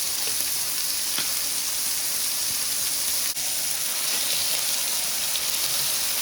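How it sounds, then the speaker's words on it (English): Shrimp sizzle loudly and steadily in a hot pan as they are flipped, with a continuous hiss of frying and a couple of faint clicks from the turning. "And we're gonna start to flip them over."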